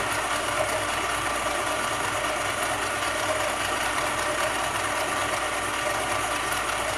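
Continuous, even mechanical hum and whir of an electric drive motor for vehicles speeding up under the accelerator, holding at steady loudness for about seven seconds with no talk.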